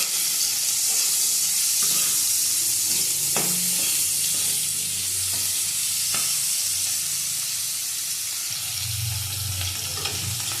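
Sliced bitter gourd fries in oil with salt and turmeric, giving a loud, constant hissing sizzle close by, broken by occasional scrapes and knocks of a spatula against the pan, with no one talking.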